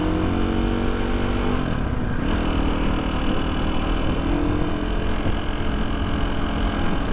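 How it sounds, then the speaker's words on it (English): A KTM 450 dirt bike engine runs steadily on off-road trails, giving a dense, even mechanical drone that fills the whole stretch. Any rocker ticking stays buried in the continuous engine noise. "And I can definitely hear the rockers going."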